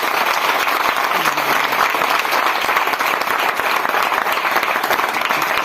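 Sustained, loud applause from a church congregation during a Spanish-language service, steady dense clapping that fills the space without a break.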